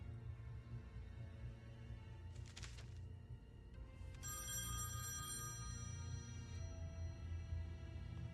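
A telephone ringing in the video game The Wolf Among Us, a couple of bright electronic ring bursts over a low, murmuring ambient game score, fairly quiet and with no talking.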